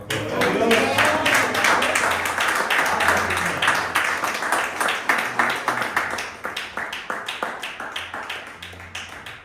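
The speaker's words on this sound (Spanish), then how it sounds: "vamos a aplaudirle al Señor" A church congregation applauds the Lord with steady, loud rhythmic clapping from many hands, close and continuous, the claps growing more distinct and evenly spaced toward the end, with voices mixed in.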